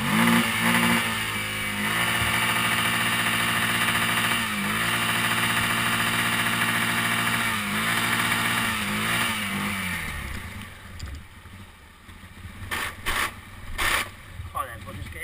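A quad bike engine drones and revs in uneven pulses while heading downhill, loud and close for about ten seconds before dropping away. Scattered knocks and rustling follow, and voices can be heard over it.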